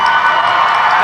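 A convention panel audience applauds and cheers in a steady, dense wash of clapping that fills the whole short stretch without a break.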